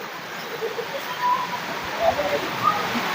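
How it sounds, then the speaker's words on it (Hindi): A continuous rush of rainwater flowing down the steps of Tapkeshwar Mahadev temple, like a steady cascade spilling down, fills the scene, with a few faint chirps above it. "लगातार बारिश का पानी सीढ़ियों से नीचे की ओर बह रहा है।"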